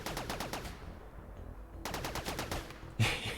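Gunshots in RimWorld, quick bursts of several rapid cracks, then a pause, then another flurry ending in one louder hit.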